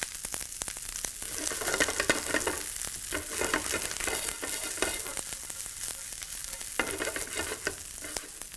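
Broccoli, cashews and curry leaves stir-frying in a pan for a Kerala-style dish, giving a steady loud sizzle with frequent clatter of a spoon against the pan throughout.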